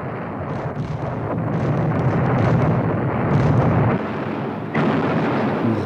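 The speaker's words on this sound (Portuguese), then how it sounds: "substituído pelo dramático ruído dos aviões de combate, das explosões das bombas e do troar dos canhões" Continuous heavy rumbling of bomb explosions and booming cannon fire, dense and loud, with bursts swelling and fading.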